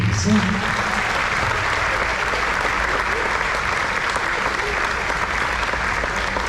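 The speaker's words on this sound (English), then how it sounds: "let's just go ahead and give the folks behind me a round of applause, please" Sustained applause from a crowd at a Navy JROTC change of command ceremony at Stony Point High School, steady clapping throughout, with a brief voice heard near the start.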